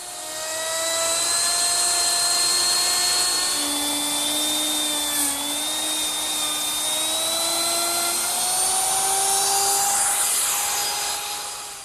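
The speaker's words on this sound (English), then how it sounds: "I use my router with a laminate trimming bit" A router fitted with a bearing-guided laminate trimming bit cuts laminate along the edge of an oak bathroom vanity top, a loud, steady high whine running nearly twelve seconds with slight pitch shifts and no voices.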